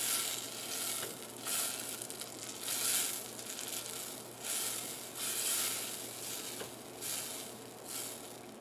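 A food processor crushing Oreo cookies into crumbs, a gritty whirring grind that pulses in repeated bursts about once a second, fairly close and with no talk.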